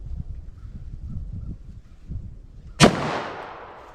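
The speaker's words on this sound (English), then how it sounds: "Let's see what I can do here with this 357 Magnum." A single loud .357 Magnum gunshot fired into a denim and medium density fiberboard target, a sharp close crack followed by a long decaying outdoor echo, after a quiet stretch of low background rumble.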